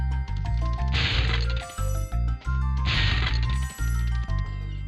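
Enemy being torched by flame in the video game Spyro the Dragon, heard as two loud roaring whooshes with sharp cracking hits, over continuous game music and effects.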